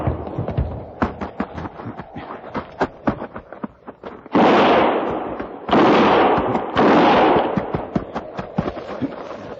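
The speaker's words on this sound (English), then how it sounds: "Start firing." Gunfire sound effects in an old-time radio western drama: rapid irregular volleys of close shots and ricochets, with several longer roaring blasts in the middle.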